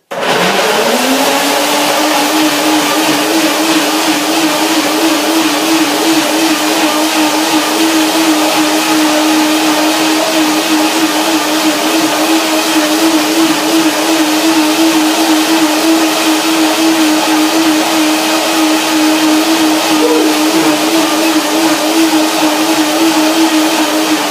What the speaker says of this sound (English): The blender dance, and then I show you what comes out of it.